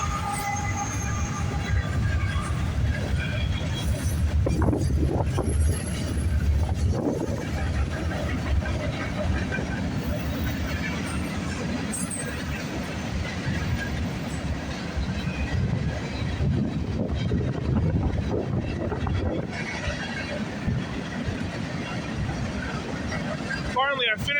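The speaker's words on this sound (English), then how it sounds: "we got a CN westbound train coming down the line" A CN westbound freight train rumbles past continuously at Burlington West on the Oakville Subdivision, with steady loud low-frequency rolling noise and clatter throughout, with a voice briefly talking over it.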